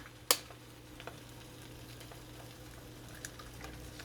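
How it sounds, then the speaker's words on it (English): An egg cracks sharply into bread frying in a pan, and a faint, steady sizzle with occasional small ticks and pops follows. "So I'm gonna crack another egg in here again"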